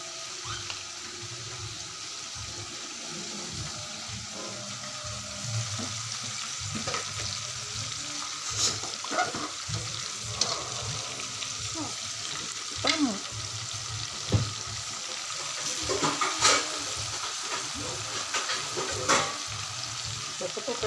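Fried chicken sizzles and crackles steadily in hot oil, with occasional clinks and stirring noises and some running water in the background.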